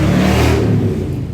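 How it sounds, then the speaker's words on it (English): A motorcycle passes along a street nearby, its engine a loud, steady mid-pitched drone that swells and then fades slightly over a brief moment, with no talk. "There goes a motorcycle down the street."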